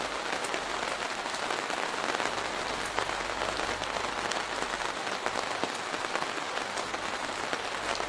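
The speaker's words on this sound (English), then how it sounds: "It's raining, y'all. It is raining in spaces." Steady virtual rain in a virtual reality app patters densely on a surface, a constant even hiss of drops with no pauses, fairly soft and close.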